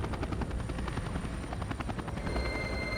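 Helicopter in the video game Max Payne 3, a steady loud rotor thump with engine whine that fills the whole stretch without pause.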